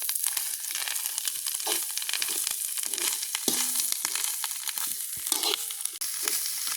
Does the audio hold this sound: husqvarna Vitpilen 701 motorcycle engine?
no